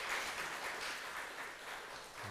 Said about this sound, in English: I ask you for an applause once again